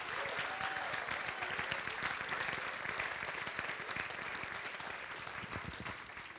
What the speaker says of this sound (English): everybody please applaud for the late Nadia Hollaber